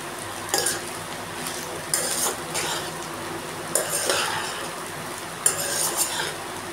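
A spoon scraping and clinking against a cooking pot while stirring rice, several short bursts spaced a second or two apart over a low background hiss.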